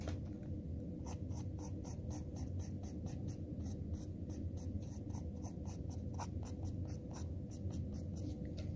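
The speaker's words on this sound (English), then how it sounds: "I'm going to take a line and just draw a line straight out" A pen scratches quick short strokes on paper to draw pine needle lines, a rapid series of faint, close scratches over a steady background hiss.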